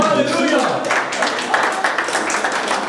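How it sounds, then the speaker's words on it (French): An audience applauding in a hall, dense clapping building after a voice at the start and continuing loud and steady to the end. "On va l'applaudir aussi."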